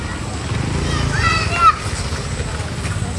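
Children at a birthday get-together play in muddy water, their voices chattering over a low slosh that builds to one sharp splash near the middle.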